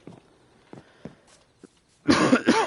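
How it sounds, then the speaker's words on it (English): Coughs from someone with a cold while gaming in Minecraft on PS5: a few quiet hoarse coughs spaced out at first, then a louder, closer burst of coughing near the end. "Colds are always terrible, man. Making you cough."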